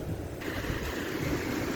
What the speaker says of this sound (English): Walking along the ocean with cars on my right.